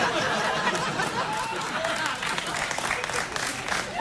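A late-night TV talk show studio audience applauds in a steady, dense wash of clapping, with some laughter mixed into the crowd noise.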